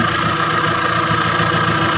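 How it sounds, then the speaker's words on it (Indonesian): A Timor DOHC car engine idles after being started, a steady, loud mechanical hum with a regular throb and no break, close up and without voices. "setelah mesin dihidupkan"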